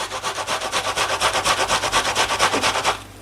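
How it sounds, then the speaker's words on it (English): An onion is grated by hand on a grater, about twenty quick, even rasping strokes in a steady rhythm, close and loud, ending abruptly. "half of the onion I'm grating"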